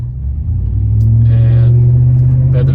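A Chevrolet Silverado pickup with an upgraded big brake kit drives while its new brakes are bedded in, giving a loud, close, steady low engine rumble that swells slightly, with faint talk partly mixed in.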